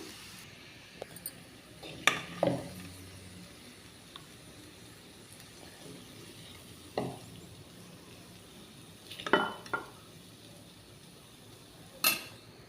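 A spoon scrapes and clinks against a pan of frying okra (bendakaya). A handful of separate, faint clatters is spread over a quiet background, with no voices.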